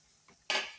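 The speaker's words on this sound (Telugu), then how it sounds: "ఓకే అండి, ఒకసారి మూత అయితే తీసి చూసుకుందాము." A metal lid comes off a pan of cooking eggplant in a home kitchen: a soft clink, then a short, bright clatter and hiss, close and brief.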